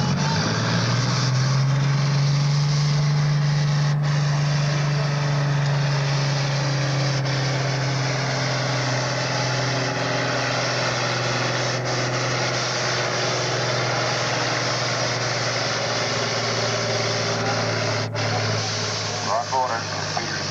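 An Allis-Chalmers AC 200 farm tractor runs at a 1998 super farm tractor pull in Earlville, Iowa, its engine a loud steady drone throughout, with a rising pitch early on, under a crowd and announcer talking.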